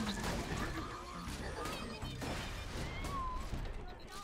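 A cluster grenade in Borderlands 2 goes off in a burst of crashing, popping blasts with game effects chiming over a steady rumble, while a player talks over it.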